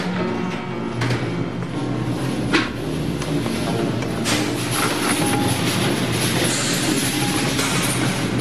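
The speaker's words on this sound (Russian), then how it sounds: "Это и есть ваш поезд, Клайд?" A train rolls steadily nearby, with a continuous rumble of wheels on rail, occasional clacks and faint metallic squeals, and no voices.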